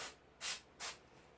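An aerosol can of fake snow sprayed onto a Christmas snowman bucket, two short close hissing bursts about half a second apart over faint room quiet.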